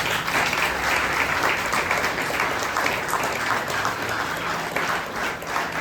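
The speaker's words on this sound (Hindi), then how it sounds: "एक ताली उसके लिए बजा सकते हैं।" A sustained round of audience clapping at a talk on living a contented life, dense and steady from start to finish with no voices breaking through.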